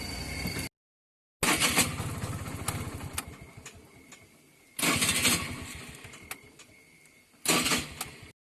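A car engine cranks and catches in three separate bursts, each starting loud with a rough chugging turnover and then settling into a steady idle, with short silent gaps in between.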